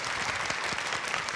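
Audience applause at a release event for a single, a dense steady clapping from a crowd that fills the whole short stretch without a break.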